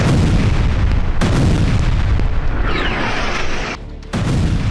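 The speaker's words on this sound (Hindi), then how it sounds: "रोज बमबारी हो रही है" Bombing explosions in Gaza rumble in heavy, continuous booms and blasts, loud and close, with a brief drop near the end before the roar resumes.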